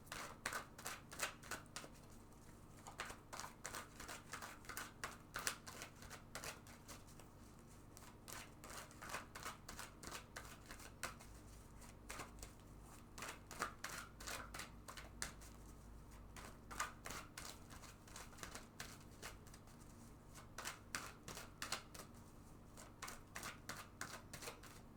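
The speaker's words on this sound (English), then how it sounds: "I'm going to go ahead and shuffle this deck several times." A tarot card deck shuffled repeatedly, quick crisp riffling clicks in rapid bursts, close and quiet with no talking.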